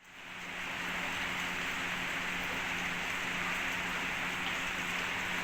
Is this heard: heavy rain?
yes